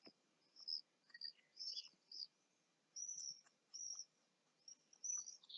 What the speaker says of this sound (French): Vous devez les entendre, les petits oiseaux.